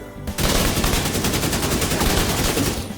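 Sustained automatic assault rifle fire in the video game Division 2, a loud continuous burst of rapid shots lasting nearly three seconds with no talk over it.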